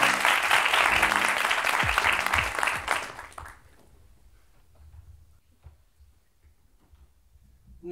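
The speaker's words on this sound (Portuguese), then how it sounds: "Salva de palmas, Ruben Branco" A stand-up comedy crowd applauds comedian Rúben Branco with loud, dense clapping that stops abruptly after about three seconds, leaving a quiet room with faint scattered sounds.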